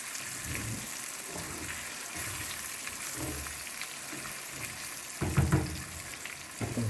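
Floured beef pieces sizzle and fry steadily in a pan while being stirred, for a beef miroton, with scraping stir sounds and a louder burst of sizzling near the end; no one speaks.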